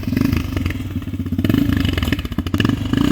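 A cheap sport quad's engine sputters and revs as it is coaxed to life with throttle, a loud, close, choppy engine clatter with rhythmic pulses throughout.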